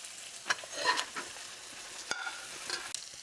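Eggs frying in a hot pan give off a quiet, steady sizzle, broken by a few sharp scraping and stirring clicks from a utensil nearby.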